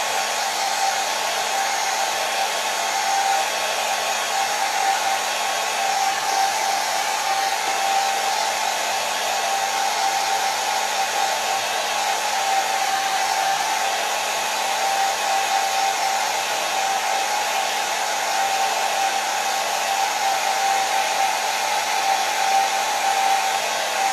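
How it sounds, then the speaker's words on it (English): A hair dryer runs continuously at close range, drying layers of acrylic paint, a steady even whir with a faint hum and no pauses or voices. "We're all just dealing with the blow dryer today for this."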